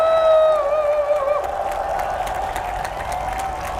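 A crowd at an outdoor political rally in Yeouido claps and cheers in a loud, continuous wash of noise, with a sustained tonal ring over the first part.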